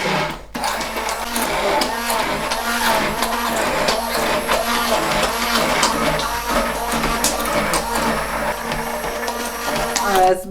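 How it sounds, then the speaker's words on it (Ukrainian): A kitchen blender whirs steadily, pureeing cooked zucchini and tomatoes for homemade ketchup, a loud continuous motor drone with shifting pitch and brief dips as the blades churn through the mixture. "Все добре збиваю блендером до однорідної маси."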